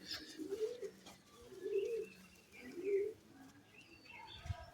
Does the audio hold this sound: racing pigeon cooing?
yes